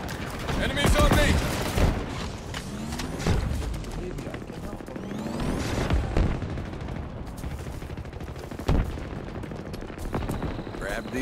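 Heavy gunfire fills a Halo Infinite Big Team Slayer match on the Fragmentation map, with continuous automatic bursts and booming impacts layered over game voice lines and chatter throughout.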